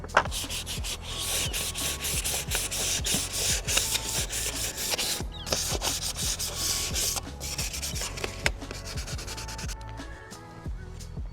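Black plastic trim on an E30 car is sanded with 1000 grit sandpaper, a close, continuous rasping scrub with quick back-and-forth strokes that ease off near the end.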